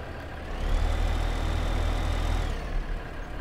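A tractor engine idles steadily in a farming video game set on the Hof Bergmann map, a deep low rumble swelling slightly in the middle before easing back, with no talk over it.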